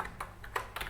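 A few quick keystrokes on a computer keyboard while entering an email address into a web form, soft irregular clicks close by and alone.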